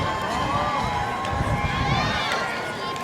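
A comedy crowd at an outdoor show in the park cheers and claps for a few seconds, a loud continuous roar of voices and applause with scattered whoops, steady throughout.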